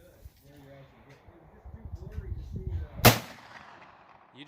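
A Rossi 92 lever-action rifle in .44 Magnum fires a single loud, sharp shot outdoors at a ram target, preceded by quiet talk and followed by a brief decaying echo.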